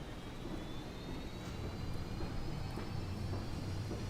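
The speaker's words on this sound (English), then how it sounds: "Let's go ahead and spool up the APU" A steady, broadband whine and rumble of an aircraft auxiliary power unit spooling up on a PMDG 737 in Microsoft Flight Simulator, heard from outside the plane, with a faint high tone rising slowly over the continuous drone.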